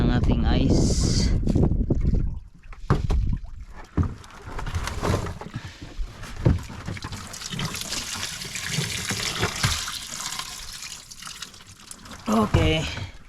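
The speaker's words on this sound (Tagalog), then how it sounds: "So buhos natin ang ating ice." Ice is dumped over fresh fish aboard a small fishing boat: a sustained rushing, rattling pour with clattering chunks, loud and close, and people talking over it.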